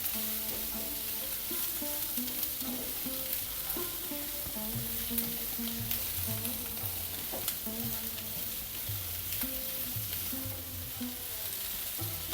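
Onions and spices for an egg curry sauté in a pan, a steady close sizzle and crackle with occasional stirring scrapes, no talk.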